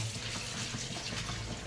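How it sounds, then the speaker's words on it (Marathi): A kitchen tap runs water into a sink for washing fenugreek leaves, giving a short, soft, steady gush with no voices. "नळ तर चालू कर आई."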